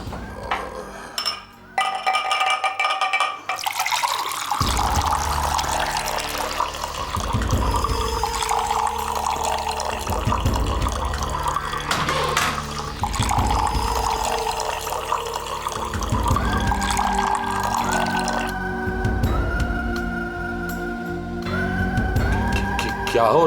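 Water runs and pours steadily for most of the stretch, a loud continuous splashing rush with a few clinks, and voices talk over it at times.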